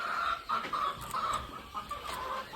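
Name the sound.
Sonali breed breeder chickens clucking on poultry farm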